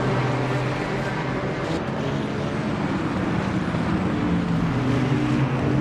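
McLaren GT3 race car engine droning steadily during a Qatar sprint race in a sim racing video game, a continuous loud tonal roar with layered engine harmonics and no break.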